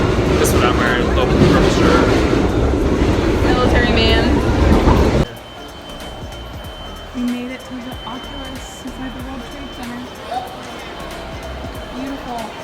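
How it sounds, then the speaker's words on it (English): A moving New York City subway train roars and rattles loudly under voices for several seconds, then the scene cuts abruptly to a much quieter space with talking. "Subway's fun. It's like a ride."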